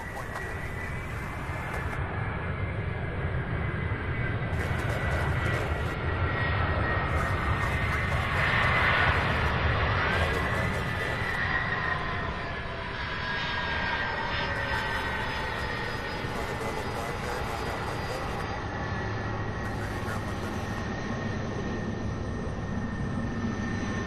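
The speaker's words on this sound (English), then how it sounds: "This is the A300 out of Omaha, Nebraska, UPS flight 2585." A UPS Airbus A300 jet at Louisville International Airport makes a continuous distant engine roar across the whole stretch, with short bursts of radio voices breaking in now and then.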